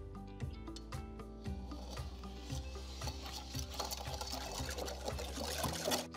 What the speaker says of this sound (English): watch what happens when the water gets churned up